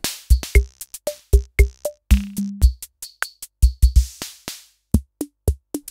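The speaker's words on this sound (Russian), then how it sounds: "А это звуки Корга Mini Pops 7" Sounds of a 1966 Korg Mini Pops 7 drum machine: short, clipped percussive hits, ticks and pitched blips in an irregular pattern, with a brief sustained tone in the middle, crisp and close without speech.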